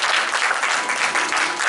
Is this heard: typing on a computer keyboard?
no